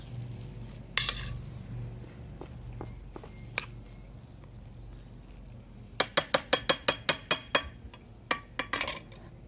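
Spoon stirring cheese, sour cream and homemade salsa together in a bowl for a breakfast burrito: soft scraping at first, then a quick run of about ten sharp clinks against the bowl, close and fairly quiet.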